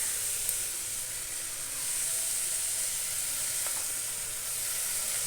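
Crushed ginger and garlic frying in a pan for kadala curry, a steady hissing sizzle that holds level throughout with a faint stir or tap, no talk.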